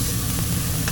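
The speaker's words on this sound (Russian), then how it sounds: "наливаем в кастрюльку масло, закидываю лучок" Chopped onion sizzling in hot oil in a small saucepan, a steady close hiss of frying with faint stirring, no voices.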